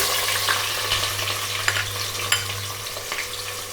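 Chopped onion frying in a pan with cumin seeds and curry leaves for veg soya pulao, a steady close sizzle with scattered stirring clicks and a low hum underneath, no talking.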